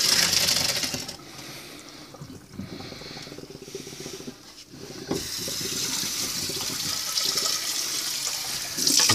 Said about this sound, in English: And now time to drain out our pasta.